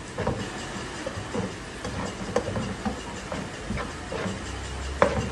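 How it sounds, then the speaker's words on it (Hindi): Red chili, turmeric, garam masala and coriander powder frying in a pan for a Pakistani bitter gourd and onion dish, a steady soft hiss with scattered crackles and clicks, close and moderate. "इन सब मसालों को मैं अच्छी तरह भून लूँगा"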